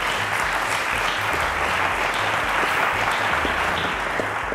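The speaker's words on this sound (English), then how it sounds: "A round of applause to Valentine" Studio audience on the Cowbellpedia quiz show breaks into sustained, dense applause for a contestant, a steady wash of clapping over a low, pulsing music bed.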